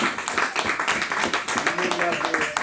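A church congregation claps in a quick, steady rhythm to acclaim the Lord, the sharp close claps running under a voice speaking or singing over them.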